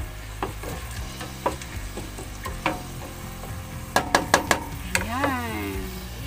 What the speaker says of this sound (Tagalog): Gisa-gisa natin yung bigas na binabad ko ng 10 to 20 minutes.